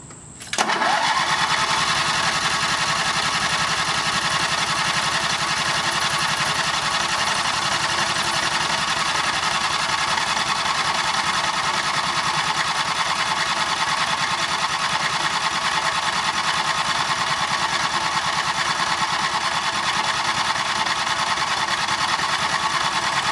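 A lawn tractor engine, freshly fitted with a new ignition coil, starts on starter fluid and runs at a steady, loud, continuous drone close by for over twenty seconds.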